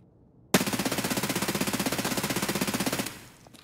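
An MP7 firing one long full-auto burst in Escape from Tarkov, a loud, rapid and evenly spaced string of shots that lasts about two and a half seconds, then cuts off and leaves a short fading tail.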